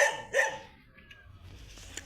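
A couple of short dog barks close together at the start, then quiet outdoor background with faint rustling.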